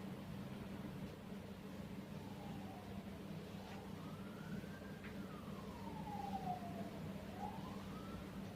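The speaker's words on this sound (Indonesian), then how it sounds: "Sirene, ada yang sakit mungkin" A distant emergency siren wails in slow rising and falling sweeps over a faint low background hum, with no talking.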